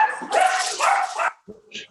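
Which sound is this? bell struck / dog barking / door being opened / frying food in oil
dog barking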